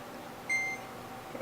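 An electric oven's control panel gives a single short electronic beep while being set to broil, faint and clear over quiet kitchen room tone.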